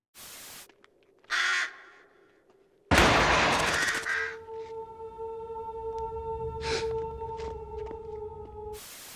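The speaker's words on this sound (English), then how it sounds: "he notices a raven pecking at a corpse, perched above on a rusted railing" A raven perched on a rusted railing above a corpse in the film 28 Days Later, giving a couple of short harsh caws, followed by a louder burst and a sustained tonal ambience with scattered sharp calls.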